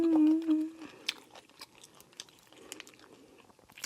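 Lobster being eaten, a short hum of pleasure followed by close, quiet chewing and soft crunching bites.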